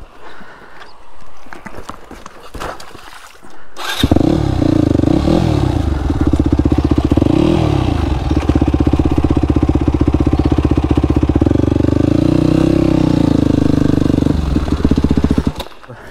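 An enduro motorcycle engine runs loud and steady from about four seconds on, its pitch rising and falling with throttle while the bike is turned around, after a quieter stretch of clatter and movement at the start.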